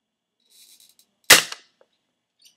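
A single sharp shot from an airsoft gun aimed at a target, one loud close crack with short tail, preceded by faint mechanical clicks and followed by small ticks.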